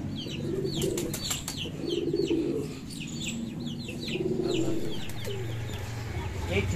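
Pigeons and chickens in a backyard coop in Karachi, with repeated soft pigeon coos rising every couple of seconds over busy chirping and light clucking, moderately near and fairly quiet.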